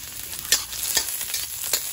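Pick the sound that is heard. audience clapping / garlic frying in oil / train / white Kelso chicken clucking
garlic frying in oil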